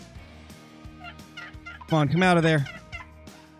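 Wild turkeys gobble in a woodland hunting setting, one loud, near gobble bursting out in a rapid warbling rattle after quieter background calls, while someone speaks softly under his breath.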